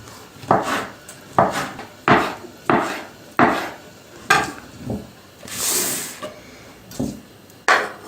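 A knife dices a tomato into cubes on a wooden board, about a dozen crisp, close chops landing in an even rhythm, with a brief softer scrape partway through.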